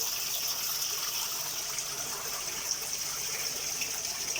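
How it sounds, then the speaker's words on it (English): Water from fish bags pours steadily into a bowl during a koi tank move, a continuous gushing splash with no pauses and no talking. "I'll empty the bags out into the bowl"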